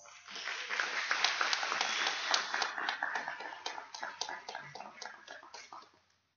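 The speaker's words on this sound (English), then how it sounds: "So please give him a round of applause." A small workshop audience gives a round of applause, a quick patter of many hands clapping at moderate loudness that rises, holds, then tapers off to silence.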